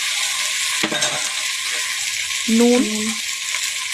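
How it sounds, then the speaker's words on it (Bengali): Onion and tomato fry and get stirred in a pan, a loud steady sizzle with a brief scrape of stirring, joined by a short spoken word. "টমেটমটা দিয়েও একটু নেড়ে নেব"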